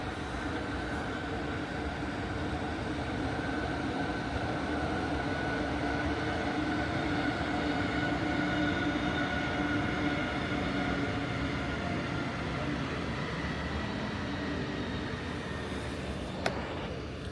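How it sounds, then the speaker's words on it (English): A train runs past at night in Tokyo, heard from a hotel room as a steady, continuous rumble and rolling rail noise at moderate distance, with a single brief click near the end. "Beautiful night view of Tokyo with the train going by."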